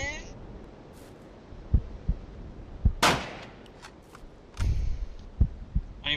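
Gunshots in a hunting simulation game, sharp, loud single cracks with short trailing decay, separated by a few seconds over steady low ambient hum and scattered thumps.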